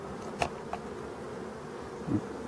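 Honey bees buzz at a forest beehive, a soft continuous hum with a few brief louder passes close by.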